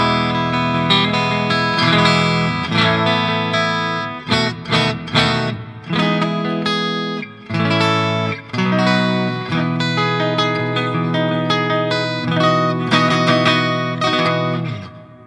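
A Dean Colt semi-hollow body electric guitar played through its piezo pickup, a dry, thin, crisp tone with strummed chords and picked notes flowing almost continuously, close and loud with no talk.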